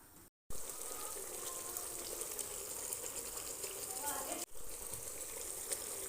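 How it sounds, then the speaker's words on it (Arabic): Chicken pieces frying in hot oil in a home kitchen, a steady broadband sizzle and crackle that runs loud and continuous, with a brief cut near the start and another dip partway through. "نزيد معها دركا الزيت هنايا ونخليها تقلب كما قلت لكم قبل، تتقلى لحتى يخرج الزيت تاعها"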